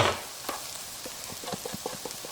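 Chopped onion with turmeric stir frying in a pan gives a soft steady sizzle, with faint scraping stir sounds repeating in a quick uneven rhythm close by.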